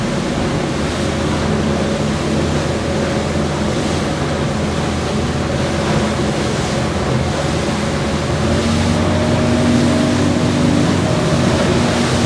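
An outboard motor on an aluminium boat drones at a steady cruising speed, about 2900 rpm, on the plane, with water rushing and wind buffeting the microphone throughout.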